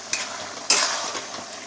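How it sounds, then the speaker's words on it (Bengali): Paneer is stirred in a pan of sauce, a soft sizzle with two or three scraping spoon strokes and a faint clink, close and brief. "এরপর আমি সব পনিরগুলোকে মিশিয়ে দিলাম।"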